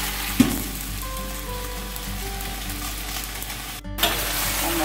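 Sweet pea sprouts and baby romaine lettuce stir-frying with garlic in a hot pan give a continuous loud sizzle with a few stirring clatters, near and steady with no talking.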